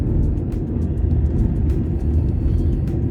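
A car driving at night on a rough, badly broken road, held in third gear on a long highway trip; a loud, steady low engine and tyre rumble fills the whole stretch with no voices.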